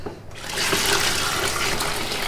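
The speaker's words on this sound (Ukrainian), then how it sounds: "Ось вливаємо ми 4 літри води." Four litres of water pour into squeezed cherry juice and pulp for homemade wine, a loud continuous gushing splash that starts abruptly and keeps flowing steadily, close up and with no voices.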